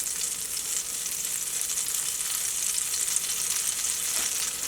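Butter melting in a pan over gentle heat, giving a soft, continuous hiss and fine crackle that holds steady throughout with no talking.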